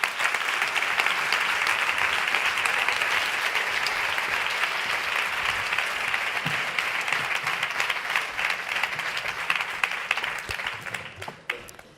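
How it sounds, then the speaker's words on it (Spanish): Sustained audience applause at an International Women's Day closing event as speakers are invited onto the stage, dense and steady for about eleven seconds before tapering off at the end, with no talk over it. "Un aplauso."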